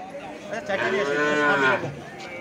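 Cattle at a livestock market where bulls and heifers are sold give one long, loud lowing moo that swells and fades over about two seconds, close by, with no talk.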